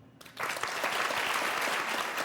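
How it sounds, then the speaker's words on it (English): An audience bursts into applause after a short quiet moment, steady and dense clapping from a crowd voting for a social media personality. "if you were going to follow somebody out of interest, just by applause"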